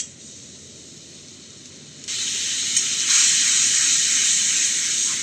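Spice paste with a splash of water fries in a pan for a Bengali parshe fish curry, giving a steady hissing sizzle that grows louder partway through and continues alone, close by.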